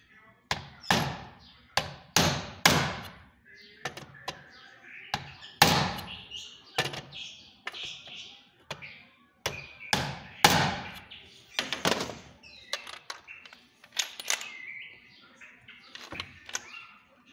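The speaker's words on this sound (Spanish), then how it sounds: "Déjenme traigo un martillo." A hammer taps repeatedly on the plastic valve covers of a Dodge Jeep Chrysler 3.6 engine. The knocks are close, sharp and irregular, coming in clusters with brief pauses, and a voice is faintly heard between some of them.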